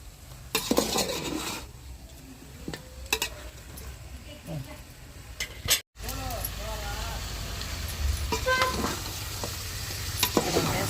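Chicken pieces for a fry-piece biryani being stirred and left to cook in a pot, with steady sizzling and scraping of a utensil against the pot, louder stirring passes throughout, and a voice talking over it.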